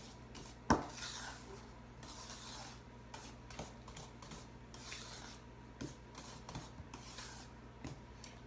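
Brownie batter is stirred lightly in a bowl, with soft intermittent scraping and rubbing and a sharp clink of a utensil against the bowl early on, fairly quiet and close, with no talking.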